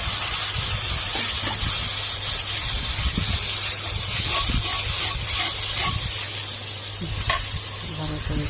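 Water hits a hot pan of chicken with bay leaves, cardamom and cloves, setting off a steady, loud sizzling hiss that holds without a break for the whole stretch, close up, with no talking.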